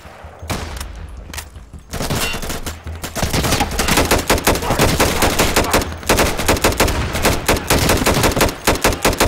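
Heavy sustained gunfire in the realistic shooter Insurgency: a brief shot and pause, then loud, near, continuous automatic fire rattling almost without a break, with a few short gaps between volleys.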